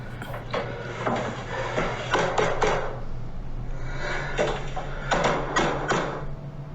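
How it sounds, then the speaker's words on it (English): Knocking on a door, with clusters of sharp raps repeated in several bursts over a steady low hum, close and fairly loud. "So I'm trying to knock where you can hear me."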